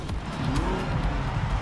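A car passes by in Forza Horizon 2, its engine roaring loud and close with a brief whoosh and a hint of tire noise as it goes past.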